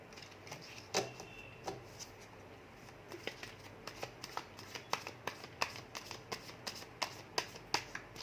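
Tarot cards shuffled by hand during a reading: a steady run of crisp riffling snaps and flicks, close and fairly quiet, repeating quickly with no talk.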